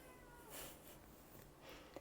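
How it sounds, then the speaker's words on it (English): A pet cat meows to be let in, a couple of faint drawn-out cries from nearby, with a short sharp noise at the very end. "My cat wants to come in here."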